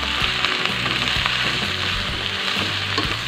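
Fried rice with meatballs and mustard greens stir-fried in a hot pan, a loud continuous sizzle with scraping and stirring strokes throughout, no voices.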